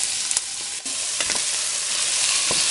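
Onion hitting hot oil in a pan, a steady close broadband sizzle with a few brief stirring clicks and scrapes throughout, no voices.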